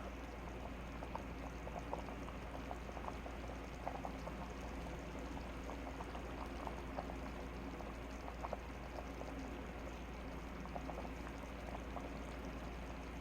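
Thickened lamb stew simmering in a pot on lowered heat, giving a steady, faint bubbling with small soft pops and plops spread evenly throughout, no voices.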